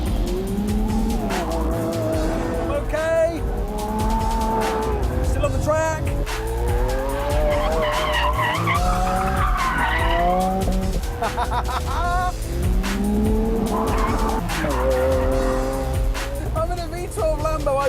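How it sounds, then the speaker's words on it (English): A Lamborghini Aventador with a V12 engine is thrown hard into corners on a test track, its engine roaring and shifting in pitch while tires squeal in repeated bursts, loud and close throughout. "I'm in a V12 Lambo. I just threw it at a corner at insane speed and it went round."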